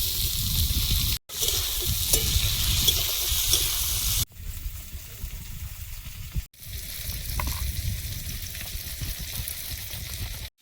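Steady, loud sizzling of potatoes frying in a pan, a dense crackling hiss with a few brief breaks and occasional soft stirring.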